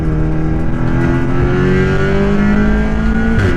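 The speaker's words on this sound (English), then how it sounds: "it was only right that AKS Alex took the car out for its first road test." A 500bhp Audi S3 8V road-legal track car accelerates on a road test, its engine droning loud and close with a rising tone that holds steady, then shifts near the end.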